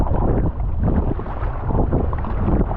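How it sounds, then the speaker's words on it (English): Strong wind roars and buffets steadily across the microphone while paddling on open water near offshore islands, a loud continuous gusting rumble with no voices. "the wind's blowing us all the way back that way"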